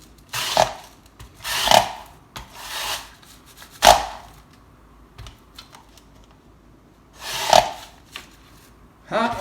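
A potato forced through a handheld fry cutter, a few separate hard crunching thrusts with woody chopping snaps, spaced irregularly over several seconds, close and fairly loud with quiet pauses between.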